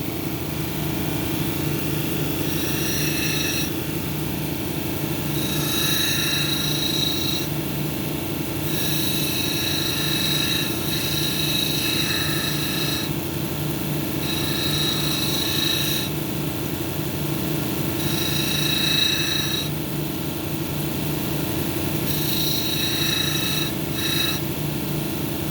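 Hematite cabochon ground on a 220 grit wheel, a steady motor hum with a continuous rasp and intermittent higher scraping bursts as the stone is pressed on and lifted, no voices.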